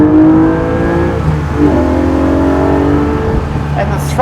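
A Porsche 718 Cayman GT4's naturally aspirated engine revs hard above 5,000 RPM, a loud, rising, sustained howl heard from inside the car, with someone talking over it.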